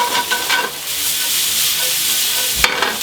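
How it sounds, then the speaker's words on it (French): Chopped shallots sizzle steadily in a hot pan with the residue of just-cooked steaks, a continuous close frying hiss with a few stirring scrapes and a sharp clack near the end. "Échalotes. On égalise, on les fait suer."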